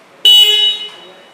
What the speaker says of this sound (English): This is the button for horn.